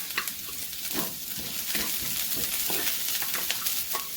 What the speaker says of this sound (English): To this, we'll add in our garlic.